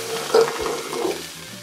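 A beef burger patty sizzling in a pan while cooking, a steady close crackle and hiss with small pops, alone without talk.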